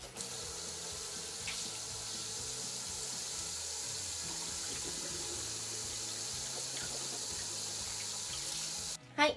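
Tap water runs steadily into a bathroom sink for a morning gargle, a continuous close hiss and splash that stops abruptly at the end with a brief clunk.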